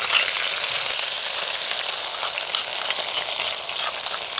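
Crushed garlic, ginger and green chili hit a hot pan for a Kerala-style brinjal dish, giving a loud, steady, close sizzle and hiss that holds evenly throughout with no talking.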